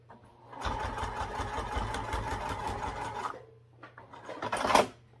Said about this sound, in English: sew it on with 1/2 inch seam allowance and then flip them out and top stitch at 1/8 inch